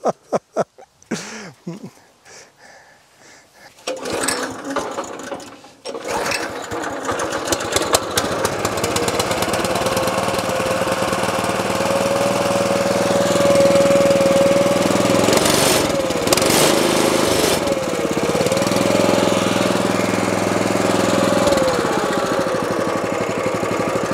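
An old Turfco topdresser machine's small engine sputters through a few starting attempts, then catches and runs steadily at a loud, even chug, its pitch shifting slightly as it settles.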